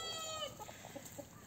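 Chickens in a backyard flock of Brahma and Ameraucana hens cluck softly in a short run of low, close murmurs over steady background hiss, with no talking.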